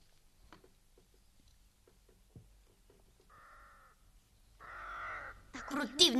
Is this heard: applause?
no